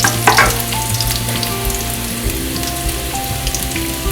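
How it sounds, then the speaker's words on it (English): Fresh mint, herbs and seasoning sizzling and frying in hot oil for coconut mint fried rice, a loud, steady crackling hiss with a clatter of stirring near the start. "we're going to pile of all our fresh herbs and our seasoning into the oil"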